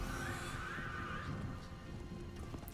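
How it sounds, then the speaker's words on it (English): A horse in the Diablo IV video game lets out a loud whinny, followed by soft clip-clop of hooves over a faint rain-like background. "Come on, horse."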